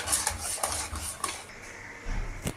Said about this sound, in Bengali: আমি এইভাবে এটা কন্টিনিউ নাড়বো, ঘন হয়ে আসবে তখন আমি গ্যাসটা অফ করব।